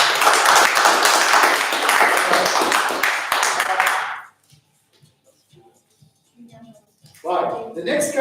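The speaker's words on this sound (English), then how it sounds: "Let's get a round of applause," Audience at a live sports draw clapping together, a loud rapid round of applause that stops suddenly, followed by near silence, a few scattered sounds and then talking.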